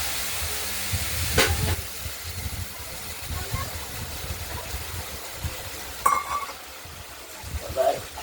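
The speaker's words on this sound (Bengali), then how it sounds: "এবার আমরা মশলাটা দিয়ে আলু কড়াইতে দিয়ে দিলাম" Potatoes coated in ground spice paste sizzle and hiss in a wok for a paneer curry, a steady frying hiss broken by two louder crackling bursts, with voices at moments.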